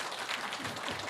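An audience gives a round of applause at a mind-study talk concert, with dense, steady clapping from a crowd filling the short moment without voices.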